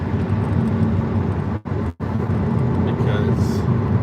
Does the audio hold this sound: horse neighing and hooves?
no